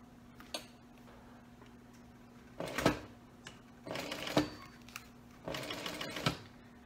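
A sewing machine stitches slowly along a vinyl flap in three short runs of rapid ticking with quiet pauses between, close by over a low steady hum.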